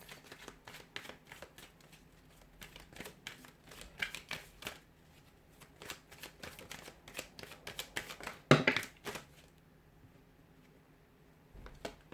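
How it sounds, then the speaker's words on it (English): Tarot cards are shuffled by hand in soft, quick riffling bursts with light taps and flicks, close and quiet, repeating in uneven runs with a sharper snap near the end. "we'll give the cards a shuffle"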